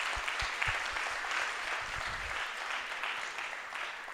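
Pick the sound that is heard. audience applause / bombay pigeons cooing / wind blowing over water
audience applause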